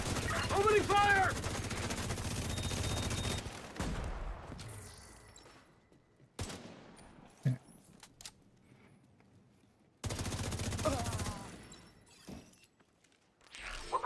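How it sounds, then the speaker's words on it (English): Bursts of automatic gunfire in a video game, loud rapid volleys in the opening seconds with scattered sharper shots later, broken by quiet gaps and overlapping with people talking. "Opening fire!"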